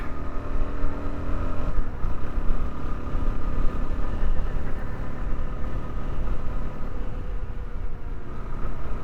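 A Suzuki DR-Z4S motorcycle engine drones steadily while riding in fifth gear at about 42 mph, a continuous low rumble mixed with rushing wind noise and no speech.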